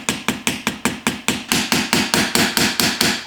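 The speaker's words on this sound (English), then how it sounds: "We're going to go ahead and now install the roll pin and go as far as I possibly can." A hammer taps a roll pin into an AR-15 bolt catch with about fourteen quick, evenly spaced metallic strikes, close and clear, with no talking.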